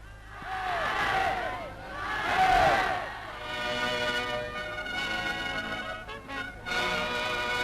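A packed stadium crowd roars and cheers at the 1936 Berlin Olympics opening ceremony, in swelling waves on an old, hissy newsreel recording, with a narrator's voice speaking over the noise.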